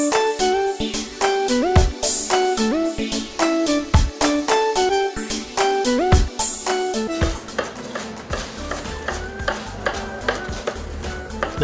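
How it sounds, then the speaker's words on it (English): Sweet Melissa's Good Eats restaurant in Boardman on a busy day, with clattering dishes and pans and kitchen knocks under loud upbeat music that plays throughout. "That's the sound of another big day at Sweet Melissa's Good Eats in Boardman."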